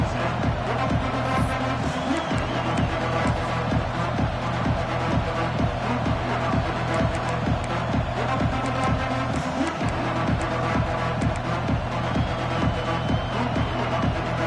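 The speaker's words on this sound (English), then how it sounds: "This crowd ready to make its presence known." Stadium crowd in an NCAA 26 college football video game, Auburn against Clemson, a steady loud roar of cheering fans under pounding rhythmic band drums and game ambience throughout.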